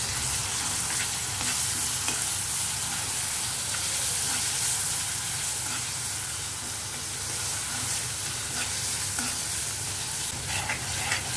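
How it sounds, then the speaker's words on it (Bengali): Spices, ginger paste and garlic paste sauté for a pigeon curry, giving a loud, continuous sizzle with constant stirring scrapes throughout. "আমি এটাতে 1 মিনিট কষিয়ে নিব।"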